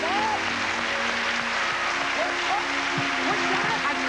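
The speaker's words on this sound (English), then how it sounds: "Give Jesus a clap off." Applause from a church crowd at a 1980s televised faith-healing service, a dense steady roar of clapping throughout with voices mixed in.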